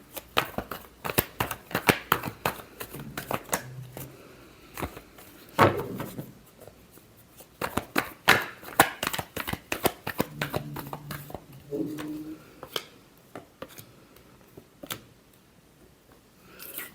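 A tarot deck being shuffled by hand, close and crisp: sharp riffles and card slaps in irregular bursts, with pauses and a few soft spoken words between.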